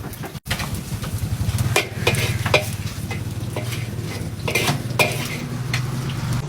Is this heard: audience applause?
no